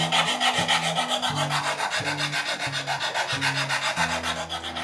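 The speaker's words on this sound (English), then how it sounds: "I'm just using a hard backed sanding block and just killing the edge on each side" Steady back-and-forth sanding of a wood edge with a hard-backed sanding block, a rhythmic rasping scrape repeating quickly and evenly, close and fairly loud with no talking.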